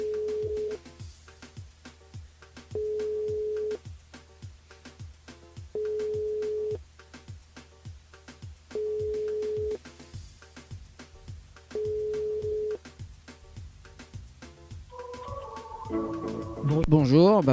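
Telephone line on a live radio call-in show, repeated steady ring tones in even bursts with short pauses between, followed by rising warbling electronic tones at the end.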